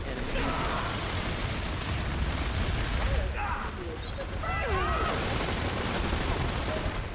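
A grenade explosion and continuous gunfire in a PS4 shooter, a dense barrage of shots and booms with mechanical clatter running steadily throughout, while voices talk over the battle.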